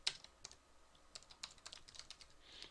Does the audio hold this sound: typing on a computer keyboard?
yes